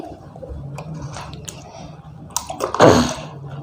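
Water is poured over feet while washing them for ablution: soft trickling and wet rubbing, then a louder splashing pour near the end, close by.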